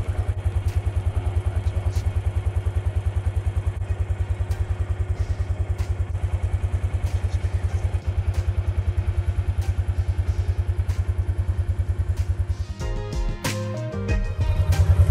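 Kawasaki Mule utility vehicle pushing through deep snow, its engine thumping in a steady rapid rhythm close by, with clattering and a burst of rougher noise near the end.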